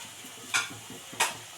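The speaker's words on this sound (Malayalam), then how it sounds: "അതിൻ്റെ പച്ചപ്പൊന്ന് മാറുന്നവരെ ഒന്ന് ഇളക്കി കൊടുക്കാം" Ground spices such as turmeric, fenugreek and garam masala powder are stirred as they fry in a pan, giving two brief scraping strokes over a soft, quiet sizzle.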